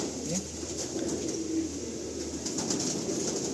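Pigeons in a pigeon loft give a low, steady murmur of cooing under a constant hiss of background noise, fairly faint and continuous with no clear talk.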